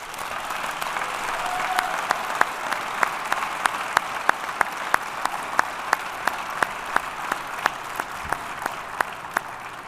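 An awards ceremony crowd applauds steadily, dense clapping filling the room with a few sharper, louder claps standing out above the wash.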